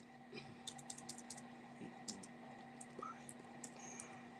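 Fingers tap on a computer keyboard in quick irregular clusters of soft clicks, close by and fairly quiet against a low steady hum.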